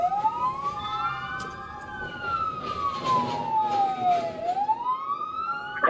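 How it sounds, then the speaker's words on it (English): Police car sirens wail in a smooth rising and falling sweep during a chase after a stolen construction vehicle in Michigan, loud and fairly near over a low traffic rumble. "Go ahead and reactivate your lights and sirens there"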